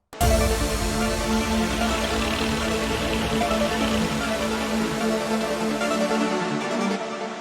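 A hardstyle track plays with its basses and vocal stripped out, leaving sustained pads, leads and effects in a dense, steady wash at even loudness, ending abruptly with a brief fade.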